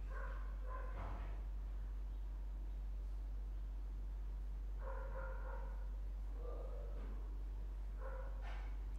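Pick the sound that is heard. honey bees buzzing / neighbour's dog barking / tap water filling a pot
neighbour's dog barking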